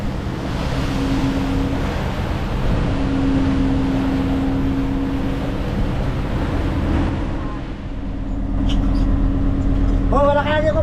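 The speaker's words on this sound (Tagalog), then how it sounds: "pag ganito kalakas ang silig bagal ang takbo hirap na ang makina" Boat engine labouring against strong wind at sea on a voyage past Bicol toward Samar. Its steady low drone sits under heavy wind roar and wave noise throughout, close to the microphone, with brief chirping sounds near the end.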